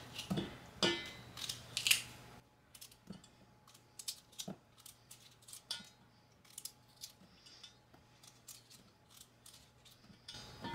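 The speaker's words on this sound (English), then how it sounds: "I'm going to cut these into quarters." Russet potatoes being cut into quarters with a knife on a board, producing sharp irregular clicks and taps at close range, fairly quiet, with a few louder rustles at the start.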